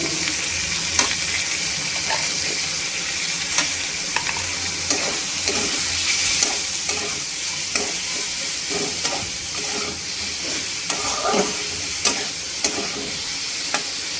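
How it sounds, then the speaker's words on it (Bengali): Onions frying gently over low heat in a pan for poppy-seed onion curry, a dense continuous hiss and sizzle with occasional stirring clicks, steady and close. "পেঁয়াজটা একটু ভাজা ভাজা হোক, ঢাকা দিয়ে দিলাম।"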